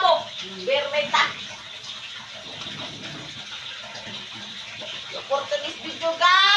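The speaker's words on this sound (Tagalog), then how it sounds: "manghugas kong plato" Dishes are washed at a sink under running tap water, a steady wash of splashing and flow with occasional clinks, and a person talks over it for much of the time.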